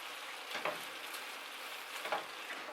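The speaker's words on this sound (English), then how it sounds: "Try to see if I can stir that." Thinly sliced food sizzling in a pan, a soft steady frying hiss with two brief scraping stirs, quiet and close, no voices.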